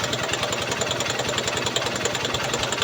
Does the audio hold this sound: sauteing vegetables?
no